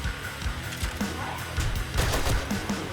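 Rapid automatic gunfire in the video game 7 Days to Die, bursts of sharp shots with impacts, fairly loud and close.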